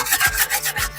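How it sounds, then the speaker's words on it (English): A Pit Boss smoker's sear plate, still inside the smoker, is scraped clean of stuck particles: a run of four or five close, rasping metal strokes in a steady back-and-forth rhythm, with no voices. "Scrape all the particles"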